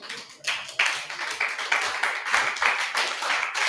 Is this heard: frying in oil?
no